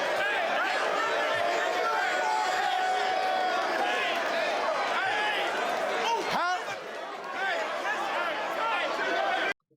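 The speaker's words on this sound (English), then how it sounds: "They still cheer." A crowd cheers and chatters at a rap battle, loud and continuous, with a sharp whoop in the middle and the noise cutting off abruptly at the end.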